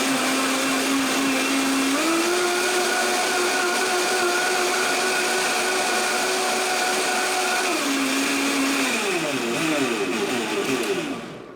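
A countertop blender whirs steadily at high speed through a broccoli smoothie, its motor pitch stepping up early on, then dropping and sputtering near the end before cutting off, loud and close.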